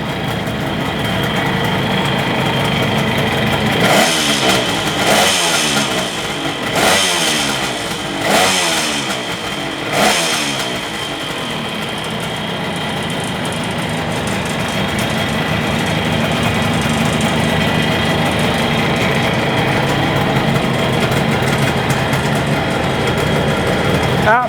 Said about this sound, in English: this is the 1972 Kawasaki S2 350 startup.